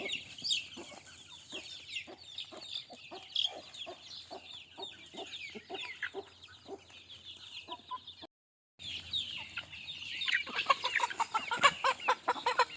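Native desi chickens on a small farm cluck steadily in a rapid, repeated rhythm at close range, with other birds chirping in the background; the sound cuts out briefly partway through, then the clucking and calling return more busily.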